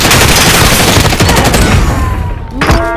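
Rapid, loud automatic gunfire from a gun in Call of Duty: Modern Warfare, a dense sustained burst close up that stops abruptly near the end, with one last shot ringing out.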